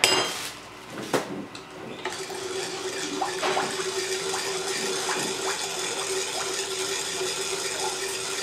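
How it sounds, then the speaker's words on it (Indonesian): Metal spoon scraping and clinking against a pot while sugar is stirred into young coconut water for homemade nata de coco, with sharp knocks early on, then a steady scraping clatter throughout. "Aduk rata dulu ya."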